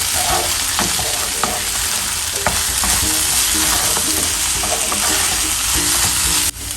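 Spices, garam masala, Kashmiri chili powder and coriander powder, stirred in a frying pan for chole, a continuous close sizzle broken by soft scraping strokes of a spoon, with no voices.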